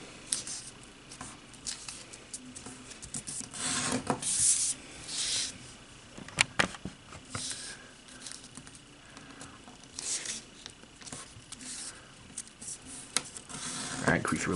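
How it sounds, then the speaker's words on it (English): Origami paper is folded and creased by hand for a modular ninja star ring, heard as soft, close rustles, rubs and crisp little crinkles coming in irregular bursts. "now fold these edges to the center again"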